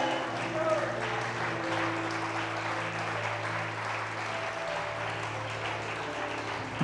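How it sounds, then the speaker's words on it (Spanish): A congregation claps in praise during a Spanish-language church sermon, a steady, dense wash of hands that holds for the whole stretch over sustained musical tones. "Yo aplaudo para darle la alabanza y la exaltación a mi Dios"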